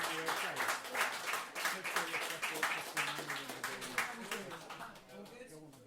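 A crowd applauds for a birthday celebrant at a live show, with steady, moderately loud clapping running throughout and chatter and voices mixed in, easing slightly toward the end.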